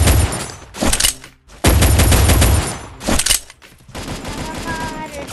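Bursts of loud automatic gunfire from a mobile shooter video game, several rapid fusillades separated by brief gaps, close and dominant, with game effects continuing underneath.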